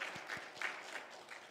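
A church congregation applauding during a Korean teachers' seminar, a short quiet patter of claps with a few distinct sharp hits, somewhat distant, with a faint voice.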